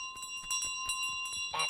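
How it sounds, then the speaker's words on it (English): A bell in Untitled Goose Game rings insistently, with rapid repeated metallic strikes and a sustained bright ringing tone, loud and continuous with no talk. "We're running away with a bell making a ton of noise"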